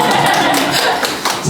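Audience clapping at a community transition-village network day event as a presenter on a neighborhood garden project is welcomed, steady dense claps over about a second and a half with a brief swell near the end.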